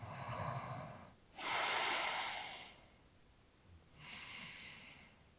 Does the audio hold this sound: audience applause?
no